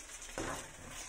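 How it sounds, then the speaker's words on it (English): Chicken stir-frying in a pan gives a steady close sizzle with brief scraping bursts of stirring, continuous through the short moment. "so I have to stir fry for like 1 minute"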